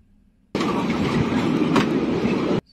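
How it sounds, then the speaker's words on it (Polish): A tram passes on rails in Bucharest, starting abruptly as a loud, close rolling roar, holding steady for about two seconds, then cutting off sharply, heard alone without speech. "Znowu tramwaj."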